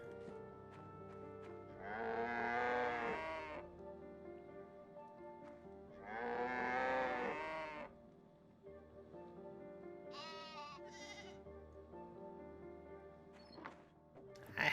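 Farm animals in the video game My Time at Portia give two long, loud bleating moo calls a few seconds apart, followed by softer higher cries, over a quiet game background.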